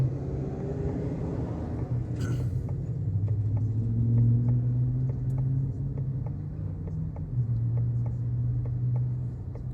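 A car's turn signal ticks evenly, roughly twice a second, inside the vehicle while stopped at a Phoenix stoplight, over a low steady engine and road rumble.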